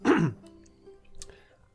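A single short throaty cough, fairly close and loud, followed by quiet room noise with faint rustling.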